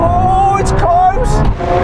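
A Lamborghini Aventador Ultimae and an SVJ with V12 engines roar in a drag race, loud and close for a brief moment, while someone talks over the engine noise.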